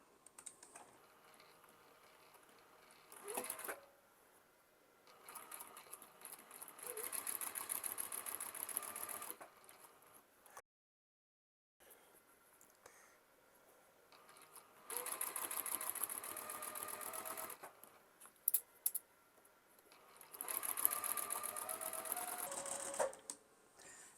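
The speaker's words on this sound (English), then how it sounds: "I'm going to go ahead and just chain piece these one after another." A sewing machine chain pieces quilt block units, stitching at a short stitch length in several steady bursts of rapid whirring, separated by quiet pauses and a brief silence.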